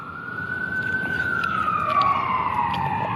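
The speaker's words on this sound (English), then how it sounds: "Okay, you're hearing a bunch of sirens." Emergency vehicle sirens wail as paramedics and police arrive at a street incident in Vancouver, a rising and falling tone held steady and fairly loud throughout over a background of traffic and crowd noise.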